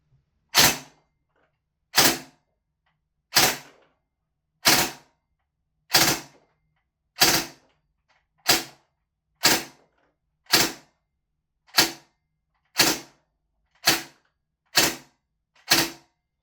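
Thirteen single shots from a VFC M249 gas blowback airsoft gun firing 0.3 gram BBs, each a sharp loud crack evenly spaced about a second apart, with near-silence between and no talk.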